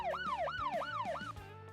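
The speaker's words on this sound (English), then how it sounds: "Siren draws closer." In the video game Goddess of Victory: Nikke, a wailing siren sweeps up and down in repeated rising-falling cycles, loud and close over a steady low backing, then cuts away near the end.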